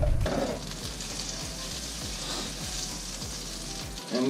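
A fat stick of butter sizzles steadily in a hot pan over medium-high heat, a loud continuous frying hiss broken by a few soft crackles, with no talking.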